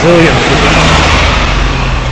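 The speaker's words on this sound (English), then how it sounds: "That was a loud bus." A loud bus passes on a rainy Hong Kong street, a heavy broadband roar and rumble that fills the whole short moment up close.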